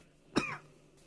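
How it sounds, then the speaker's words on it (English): A single sharp cough, loud and close, stands alone against a quiet background. "all the excitement's making me cough."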